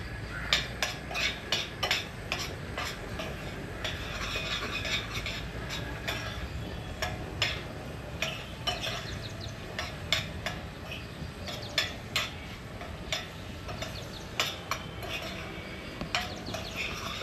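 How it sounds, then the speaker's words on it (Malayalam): Apple, butter and brown sugar sauté in a pan, with a steady sizzle under frequent light clicks and scrapes of a spoon against the pan, close and continuous with no talking. "അപ്പോൾ ഈ ബട്ടറും ഈ ആപ്പിളും ബ്രൗൺ ഷുഗറും നമ്മൾ ഗ്യാപ്പ് ഇല്ലാതെ നല്ല രീതിയിൽ സോട്ട് ചെയ്ത് കൊടുക്കണം."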